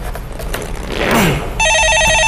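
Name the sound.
telephone ringing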